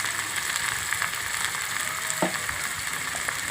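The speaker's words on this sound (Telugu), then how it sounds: "ఇప్పుడు టమాటా ముక్కలు కూడా వేసేస్తున్నాము" Tomato pieces hit hot oil in a frying pan for a tamarind-style taro root curry, giving a steady, loud, continuous sizzle with faint stirring scrapes.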